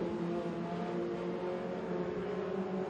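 Dirt-track race cars roar through a heat race at Crossville Speedway, a steady, loud engine drone with layered revving as cars run side by side down the back straightaway, continuous throughout.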